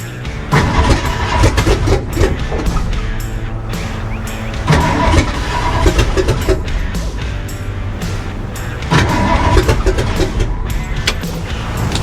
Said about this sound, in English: First fire. Happy day.